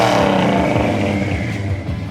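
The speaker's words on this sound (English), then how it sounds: "For a 350, it's got a nice little rumble." The 350 V8 of a 1971 Chevrolet Monte Carlo revs hard with a loud, close, deep rumbling roar that gradually eases off over two seconds, no talk.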